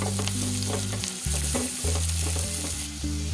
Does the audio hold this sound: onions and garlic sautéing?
yes